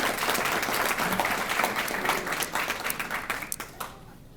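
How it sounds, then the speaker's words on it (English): Audience applause for two award-winning students from Reese Elementary at a Rodeo Reading Challenge awards event during Fiesta Days, a steady patter of clapping from a modest crowd that tapers off toward the end. "let's give a round of applause to these 2 students in Reese Elementary"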